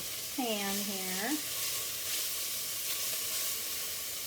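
Minced garlic sizzles and crackles in a hot pan while being stirred around, a steady frying hiss. A short voice-like glide rises briefly near the start.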